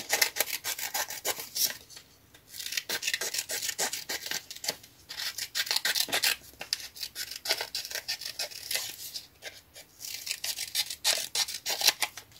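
Scissors snip repeatedly, close and crisp, in irregular bursts of short cuts with brief pauses, mixed with light rubbing and handling noises.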